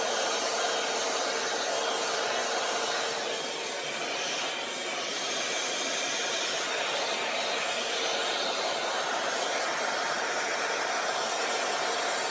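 An Envy Airstyler hot air styler blows on its high fan setting, giving a loud, steady, close-up rush of hissing air that holds unbroken throughout, with no talk.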